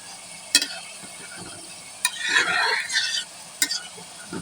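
A spoon stirs a pot of hilsa fish curry with potatoes and okra, making a few sharp metallic clacks against the pot between soft scraping and a quiet bubbling sizzle, heard close up and alone.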